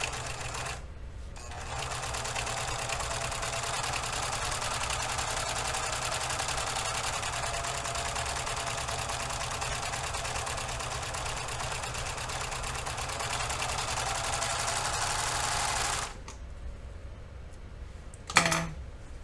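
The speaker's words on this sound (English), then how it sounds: "So I've serged the entire bottom." A serger sews along the bottom edge of a garment bodice, running as a steady, dense mechanical whir for about fifteen seconds, then stopping abruptly, followed by quiet with a brief handling knock.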